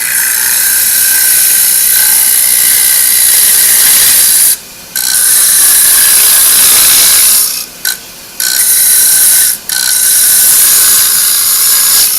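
A gouge cuts wood on a spinning bowl blank at the lathe, giving a loud, continuous hissing rasp close by, broken by a few brief pauses as the tool lifts away.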